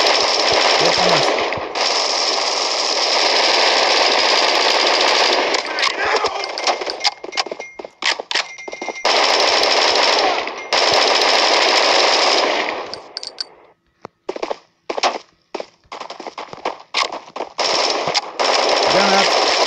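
Rapid bursts of FAMAS rifle fire in a video game, loud and close, with repeated sustained volleys separated by short pauses and scattered single shots, and voices now and then.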